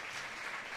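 Football supporters at the Lluís Sunyer Picó ground applaud former Alzira club presidents during a tribute, a brief steady wash of distant clapping with no voices.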